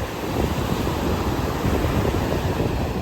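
Sea waves surge and break along Nagoor Beach in Tamil Nadu, a loud, continuous wash of surf mixed with heavy wind buffeting the microphone, with no pauses.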